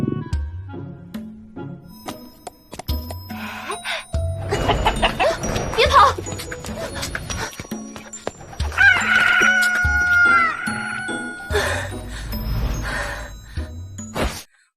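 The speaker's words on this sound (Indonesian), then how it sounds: "ayam Shaoqi pun mengeluarkan kokokannya" A rooster crows loudly in an animated Chinese donghua film, with a long rising and falling call that stands out over a busy mix of music and effects. Other clucks and short bird sounds come before and after it.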